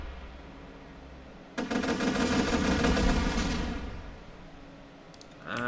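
The Suicide Bomber weapon firing in the artillery game ShellShock Live: after a low hum, a sudden loud stretch of rapid rattling blasts lasts about two seconds and fades, followed by a short clicking burst at the end.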